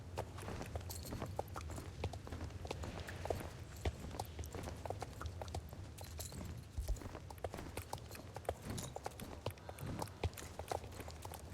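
A pony's hooves clip-clop in a video game in a steady, even walking rhythm that continues throughout at moderate volume over a faint game background.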